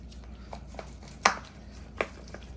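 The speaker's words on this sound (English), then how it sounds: "use a kitchen shears or let's say a sharp knife and just split it just like that" A sharp knife splitting a raw pork chop on a board, a few quiet cutting taps with two sharper thuds standing out, close and isolated with no talk.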